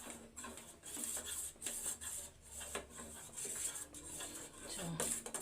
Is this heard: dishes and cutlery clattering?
yes